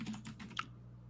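Computer keyboard typing, a quick burst of about five close keystrokes over a faint steady hum, ending in quiet.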